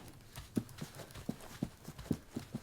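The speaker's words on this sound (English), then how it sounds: "sounds of the individual types of shoes and feet walking" Shoes make steady footsteps at an even walking pace, soft but distinct thuds repeating about every half second. The steps are fairly close and sound on their own with no talking.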